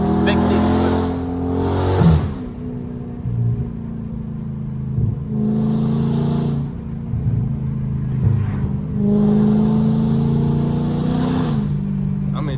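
Straight-piped 2022 widebody Dodge Charger engine revving and downshifting up close, loud throaty roar with several rising bursts, heard from inside the car while a person talks over it.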